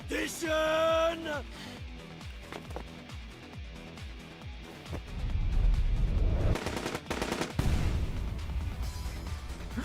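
Gunfire in AI: The Somnium Files, rapid repeated shots in a steady rhythm, then heavier bursts and crashes that swell loudly in the second half, with game music and effects underneath.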